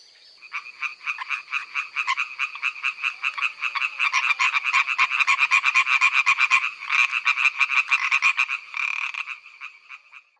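A European tree frog calls loudly and close, a rapid run of rattling croaks that builds into a steady pulsing chorus and then stops, with no voices present.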